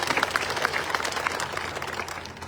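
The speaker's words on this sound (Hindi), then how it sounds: "सरदार अब्दुल रहमान काजी साहब, जोरदार तालियां से स्वागत कीजिए।" Applause from a village gathering in Chautala welcoming a guest from Pakistan, a steady burst of many hands clapping that fades slightly toward the end.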